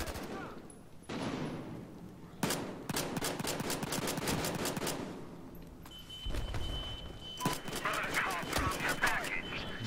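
Rapid pistol shots crack out in quick strings from a Battlefield Hardline gunfight, loud and sharp, with a car engine droning underneath and someone talking over the bursts.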